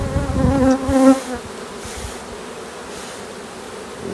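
Honeybees buzz from a huge opened hive colony, a dense close swarm hum that swells loudly at first and then settles into a steadier, softer drone, with no talking.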